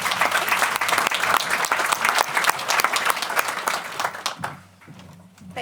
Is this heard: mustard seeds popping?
no